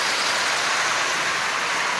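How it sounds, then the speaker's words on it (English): Steady rain falls outside on a grey day, a dense, even hiss of drops with no breaks and no voices over it. "It's a rainy day here, so a perfect day to stay inside and work on trains."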